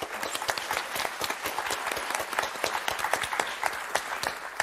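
Studio audience on a French game show applauding the winning team, a steady burst of many hands clapping with sharp individual claps standing out throughout, moderately close and sustained without pause.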